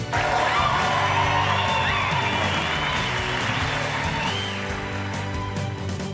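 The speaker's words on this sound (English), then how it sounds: "Stand up and cheer" A live audience at a stage show cheers loudly, with a continuous roar of crowd noise, high whoops and shouts, and scattered clapping that stays loud throughout.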